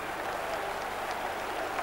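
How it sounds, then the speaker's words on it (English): Stadium crowd at a Serie A football match applauding after a goal, a dense, even wash of clapping heard from a distance under broadcast sound. "and the applause still ringing round the stadium."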